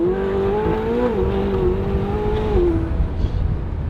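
A McLaren 720S with an aftermarket exhaust revs hard and loud, its engine note climbing and wavering as it holds high revs, then dropping off near the end, close by and with no talk.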